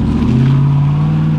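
A car stuck in thick mud revs its engine hard, a loud sustained drone with a steady pitch as the wheels spin, with no other sounds breaking through.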